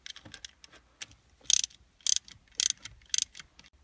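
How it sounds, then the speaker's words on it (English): A 13 mm socket wrench ratchets down bolts on a Ford Mustang's Steeda Tri-ax short-throw shifter. Four crisp bursts of rapid clicking repeat at a steady rhythm, close and clear against a quiet background. "Go ahead and take your 13mm socket wrench and tighten both of these down."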